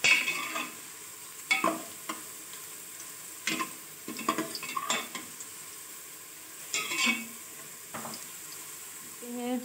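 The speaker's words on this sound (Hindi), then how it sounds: "साथ में जो है हम इन साबुत गरम मसाला के अज्जा को भी फ्राई करते जाएंगे।" Onions and whole garam masala spices fry in a pot for beef trotters, a soft sizzle under scattered scraping stirs of a spoon, with brief watery sounds, close and moderately quiet with no talking.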